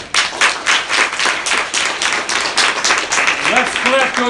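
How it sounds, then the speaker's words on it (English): Audience clapping in a room, dense continuous hand claps over 4 seconds with voices talking and calling out over it, near and loud. "Let's clap yourself."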